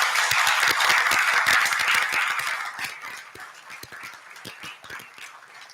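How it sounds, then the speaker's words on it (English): Audience in a Lutheran church during a Sunday service gives a round of applause, a dense burst of hand clapping that starts loud and gradually thins and fades over several seconds. "So let's give my mom and dad, Mary and Jay, a round of applause."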